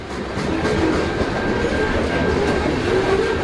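A train rolls past in motion, a steady loud rumbling wash of wheels on track with faint clatter and a thin squeal tone, heard alone for a few seconds.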